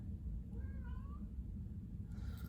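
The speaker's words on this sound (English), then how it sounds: "Oh my goodness, this cat." A cat gives a short, rising meow about midway, fairly faint against steady low background noise, with no one talking.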